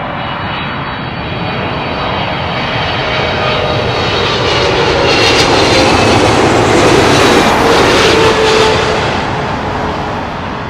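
A Turkish Airlines Boeing 777-300 arriving at London Heathrow roars past with a loud, broad jet rumble that builds to a peak midway and then eases slightly, with no voices over it.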